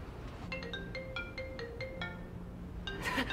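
A mobile phone ringtone plays a short electronic melody of clear, evenly spaced tones, moderately near and alone over faint room noise, with a brief burst of other sound at the end.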